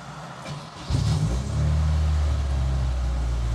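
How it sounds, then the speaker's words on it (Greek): A Honda Accord with a noisy aftermarket exhaust starts up near the microphone; after a brief crank it catches around one second in, then idles and blips with a deep, loud rumble that stays steady and unaccompanied by talk. "Κάνει λίγο φασαρία, έχει φασαριώδα εξάτμιση."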